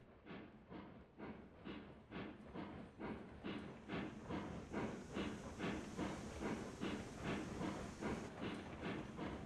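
The Montezuma steam locomotive in Railroads Online chuffs at a steady rhythmic beat while hauling a train, with regular exhaust puffs over hissing steam, moderately close and fairly quiet, with no talking.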